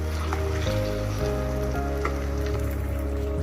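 Cashews fry in a pan for halwa, a steady, close sizzle running continuously over a low, constant hum.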